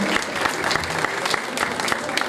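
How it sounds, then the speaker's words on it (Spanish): An audience applauds steadily and close by, welcoming singers to the stage at a concert, with dense clapping and crowd noise throughout. "Un aplauso para ellos, por favor."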